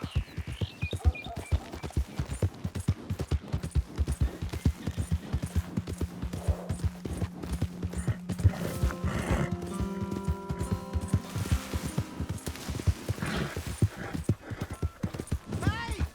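Horse hooves clip-clop steadily in Red Dead Redemption 2, a rapid even rhythm of close hoofbeats on a dirt path, with game characters and a commentator talking over them and music swelling in the background.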